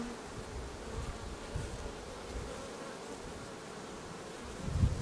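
Honeybees buzzing on a hive frame during a colony inspection, a steady close drone of many insects that swells briefly near the end, with no voices.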